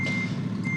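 A reversing alarm on a truck in American Truck Simulator sounds as a steady high tone over a deep idling engine rumble, loud and close, with no talk.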